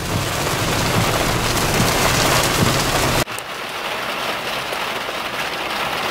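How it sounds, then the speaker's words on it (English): Heavy rain drums steadily on a surface, loud and close, then abruptly drops to a softer, lighter patter of rain partway through. "Now it's actually raining."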